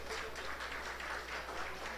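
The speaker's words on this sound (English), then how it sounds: "Give him a big round of applause," Audience applause at a public service awards ceremony, a dense steady wash of many hands clapping, moderately distant and unbroken throughout.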